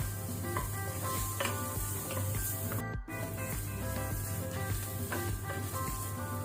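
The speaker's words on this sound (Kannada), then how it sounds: "ಸ್ವಲ್ಪ ಶುಂಠಿ ಬೆಳ್ಳುಳ್ಳಿ ಸಹ ಫ್ರೈ ಆಗಲಿ, ಹಸಿ ವಾಸನೆ ಹೋಗಲಿ." Ginger and garlic frying in a pan for a simple chicken curry, a loud close sizzle with repeated stirring scrapes and a brief break partway through, with no talking.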